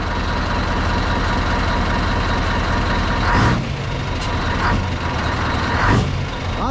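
A Scania V8 truck engine idles loudly up close, its deep steady rumble broken by two short blips of throttle that swell and drop away.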